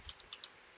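Four quick, faint clicks of keys being pressed on a computer keyboard, evenly spaced within less than a second against a quiet room hiss.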